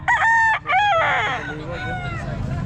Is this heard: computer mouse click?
no